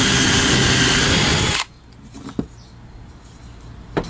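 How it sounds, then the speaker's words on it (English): A power drill bores a hole in wood set on a stop block while a wooden latch is made. It runs loud and continuous for under two seconds, then stops, leaving quiet room tone with a couple of faint taps. "we'll just drill this off the bat"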